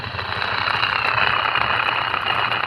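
A second 250 W 12 V stainless spin aerator for a fish pond runs loudly, its motor giving off a dense rattling drone from heavy vibration, steady and close without any pause.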